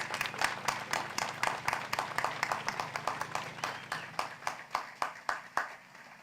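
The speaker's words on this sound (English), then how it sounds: "Everyone please give them a big round of applause." Applause for newly naturalized citizens at a naturalization ceremony: a thinner scattered round of clapping that gradually slows into sparse, distinct individual claps, fairly soft and distant.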